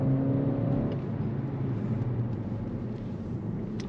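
A 2022 Skoda Octavia RS hybrid estate, 245 hp, pulls hard in sport mode. A steady engine drone rises with the throttle, loud at first and then settling into a continuous whir, heard from inside the car, with no talk.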